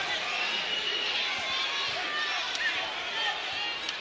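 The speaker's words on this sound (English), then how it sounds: "Crowd getting a little restless here in Greensboro" Restless basketball crowd murmuring steadily inside a Greensboro arena during a college game between Bethune-Cookman and North Carolina A&T, a dense continuous din with faint thuds and squeaks under it.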